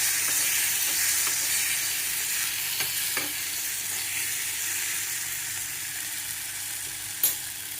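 Sambar ingredients sizzle and roast steadily in a hot pan, a continuous close hiss with a few faint stirring clinks, no voices.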